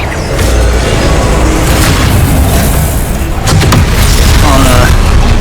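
Confringo fire spell exploding in a Harry Potter video game, a loud continuous booming blast with crackling bursts and mechanical rattles, filling the whole span without speech.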